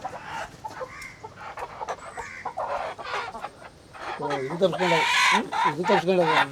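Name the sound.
chicken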